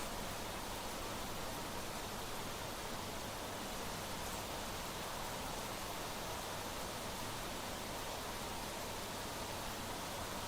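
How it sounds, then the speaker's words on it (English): Steady, even rain fills the scene in the survival game Planet Crafter, a dense unbroken hiss that holds constant throughout with no talk over it. "Now the rain sounds different."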